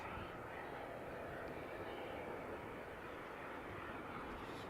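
A Royal Jordanian airliner taxiing at Amsterdam Schiphol gives a steady, distant engine rumble and hiss that stays level throughout, with faint talk at times.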